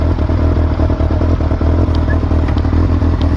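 A motorcycle engine idling close by with a steady low throb and mechanical clatter, a few light ticks on top, no speech.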